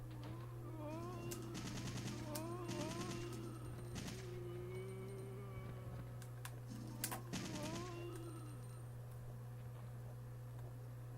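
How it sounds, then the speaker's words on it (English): Repeated gunfire bursts in a zombie video game, rapid machine-gun-like volleys and single shots spread across the clip, moderately loud over a steady low hum. "Oh, there's actually someone shooting a zombie."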